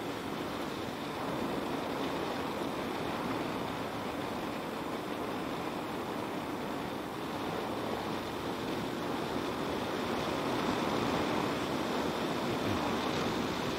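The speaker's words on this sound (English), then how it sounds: "Windy today, I'm going into it." Steady, roaring wind buffets the microphone without a break while riding a 2016 Kawasaki Concours 14 motorcycle, with a low engine rumble running underneath.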